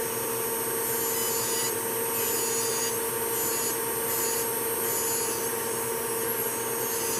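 Electric nail file grinding away 3D gel nail art set with small metal bullion beads, a steady high-pitched whine with faint rhythmic pulses of contact, continuous throughout with no talk.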